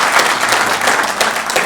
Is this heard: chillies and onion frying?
no